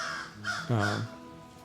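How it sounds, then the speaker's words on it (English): A crow gives a couple of harsh, rising caws close by, a short loud call standing out against quiet outdoor background. "Even a crow cawing in the background"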